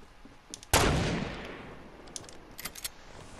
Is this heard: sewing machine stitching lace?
no